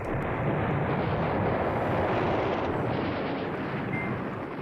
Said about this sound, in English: Just drop some more artillery on them.